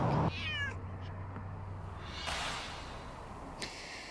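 A pet cat named Bandita gives one short, close meow at the start, followed by quiet rustling and handling noises, with a brief sharp shuffle near the end and no voices.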